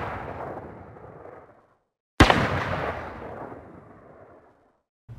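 A Soviet 45mm 20K tank gun fires in the War Thunder video game, with a single sharp, loud shot whose echo decays over about two seconds, heard after a fading earlier blast.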